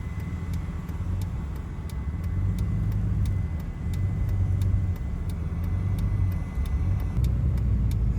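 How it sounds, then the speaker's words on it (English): A car speeds past on a rural road in Garfield County, Washington, heard over a low, steady engine rumble from a slow-moving combine harvester, with no talking. "And there's a car flying up on us."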